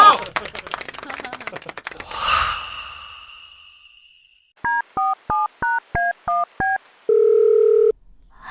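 A run of eight evenly spaced telephone keypad tones, then a longer single tone as a call is placed, following a quieter stretch of background noise.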